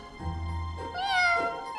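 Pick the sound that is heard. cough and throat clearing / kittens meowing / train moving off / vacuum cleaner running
kittens meowing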